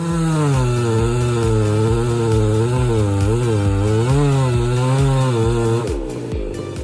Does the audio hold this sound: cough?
no